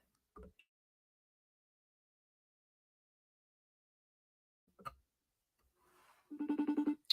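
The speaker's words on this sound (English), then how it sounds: "I'm trying to FaceTime my child because he can't find his phone." A FaceTime video call rings on a phone: after mostly quiet with a couple of brief knocks, a rapid run of bright, repeating ring pulses comes in at the end, fairly loud and close.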